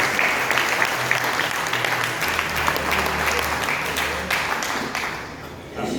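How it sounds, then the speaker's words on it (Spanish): Church congregation at a Spanish-language Sunday service claps in dense, sustained applause with a faint low musical hum beneath, easing off slightly at the end. "Puede sentarse en esta mañana dándole un fuerte aplauso al Señor Jesucristo"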